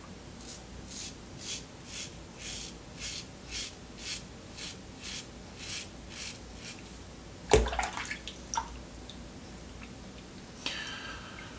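A razor scrapes against the grain through lather of Nuavia Blu shaving soap in a faint, steady series of short rasping strokes, followed by a sharp clatter and a few small knocks.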